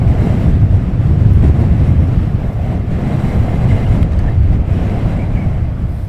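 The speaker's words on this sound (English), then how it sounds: "I'm just holding on to the rig as we get a major gust at the moment." A strong gust buffets an outdoor microphone at an airport plane-spotting spot, giving a loud, steady low roar that runs the whole time with no talk.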